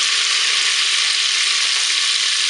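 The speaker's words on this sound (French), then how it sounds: "Je vais maintenant ajouter dans ma cuve le vinaigre" Vinegar poured into a hot pot of duck breast gives a loud, steady hiss of sizzling that holds evenly throughout with no voices.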